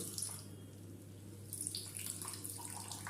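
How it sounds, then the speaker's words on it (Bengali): Water trickles and drips as it is squeezed by hand out of grated cabbage and carrot for momo filling, a faint, soft splashing close by over a low steady hum. "এবার আমি চারদিকটা ধরে আস্তে করে এরকম করে ঘুরিয়ে ঘুরিয়ে জলটা চেপে দেখুন কতটা জল বেরোচ্ছে"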